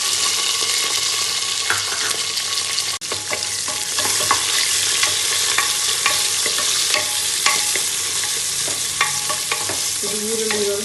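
Onions fry with spices and green chilies in a pan for mushroom biryani, giving a loud, continuous sizzle close by, broken by the scrape and clatter of a spoon stirring throughout.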